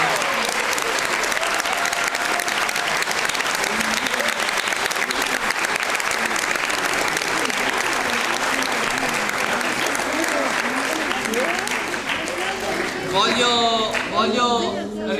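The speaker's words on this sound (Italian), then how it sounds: "Un altro grande applauso a questi meravigliosi attori." Sustained, loud applause from a theatre audience for the actors after a show, dense clapping filling the room for about fifteen seconds, with a voice starting to speak near the end.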